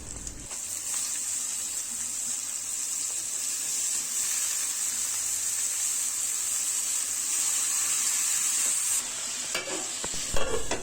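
Chopped, washed radish added to spice paste fries with a continuous bright sizzle and occasional stirring scrapes, fairly loud and even throughout, with no talking.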